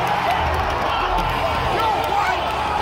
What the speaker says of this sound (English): That is the sound of a stadium full of people collectively losing their minds.